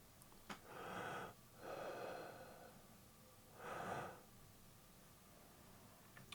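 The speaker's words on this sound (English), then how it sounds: "I'll just perform the type of breath that I want it to look for." Breaths performed into a laptop's built-in microphone: three drawn-out airy inhales and exhales, close and breathy, separated by brief pauses over a faint hiss and a couple of small clicks.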